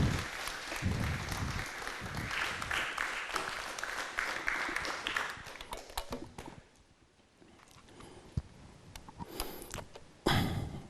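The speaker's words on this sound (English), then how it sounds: "let's welcome Dr. Joseph Kofi Entry with a round of applause," Audience applause welcoming a speaker at a talk on transformed individuals and religion, dense clapping for the first several seconds, then thinning to scattered claps and quieter room noise, with a brief burst near the end.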